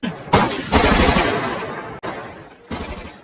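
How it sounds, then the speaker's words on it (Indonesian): Machine gun fire from a prison shootout in the 2009 film Public Enemies, with loud, close bursts of rapid shots that cut off abruptly between volleys. "situasi berubah menjadi medan perang dan baku tembak pun terjadi dengan brutal"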